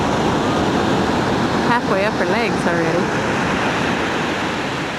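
Ocean surf breaking on a foggy Oregon beach, a steady loud wash of waves filling the whole clip while a voice speaks briefly in the middle.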